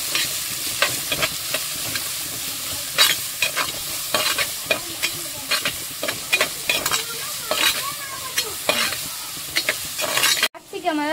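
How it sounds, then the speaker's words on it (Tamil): Capsicum being sautéed in a pan for prawn fried rice, a steady loud sizzle with frequent scraping stirs of a spatula against the pan, close and continuous with no talk. "குடமிளகாவை நல்லா வதக்கிக்கலாம்."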